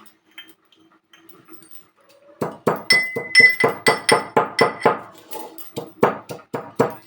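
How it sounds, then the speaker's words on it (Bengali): Roasted cumin seeds are pounded into powder with a steady run of sharp, close knocking clinks, about two per second, after a quiet start with some faint background noise. "এই যে ভেজে রেখেছিলাম জিরেটা, এটা গুঁড়ো করে নেব"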